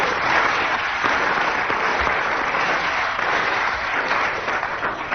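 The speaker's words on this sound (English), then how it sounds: "with that spontaneous burst of applause from the audience" Steady, dense applause from a British radio comedy panel show's studio audience, filling the whole stretch at an even level without voices over it.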